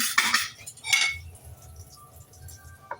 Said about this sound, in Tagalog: Ito na ang ating bawang. Dikdik na natin.